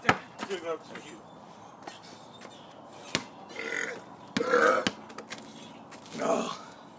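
Loud burps during a casual basketball game, several belches spread out among laughter and talk, with bouncing and knocking noises around them.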